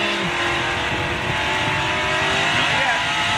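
NASCAR race car at the 1996 First Union 400, Rusty Wallace's field, with engines roaring steadily and loud throughout and a brief tire-squeal edge, dense continuous racing noise with no pauses.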